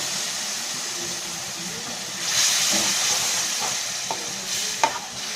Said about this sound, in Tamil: இந்த மசாலா போகிற வரைக்கும் நல்லா கொதிக்க விடுங்க